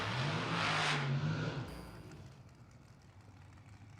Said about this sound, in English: Told you it was one of them loud cars.